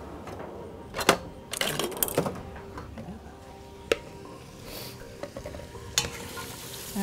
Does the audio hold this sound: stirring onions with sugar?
yes